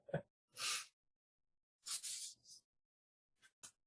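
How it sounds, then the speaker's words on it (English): A single person sneezes indoors, a sharp close burst with a quick intake of breath beforehand, followed by a few faint breathy sounds in an otherwise quiet room. "I sneezed."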